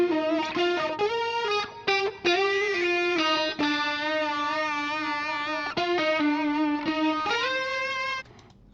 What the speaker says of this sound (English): And another wah-wah guitar.